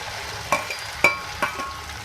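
Cut okra fries in hot oil in a pan with a soft, steady sizzle, broken by a few sharp clinks and scrapes of a utensil stirring against the pan, close by and with no talking.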